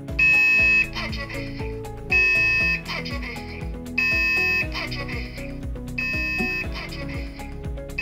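Repeated bursts of a shrill electronic smoke alarm beeping in a steady rhythm, about four cycles, over a busy music-like background.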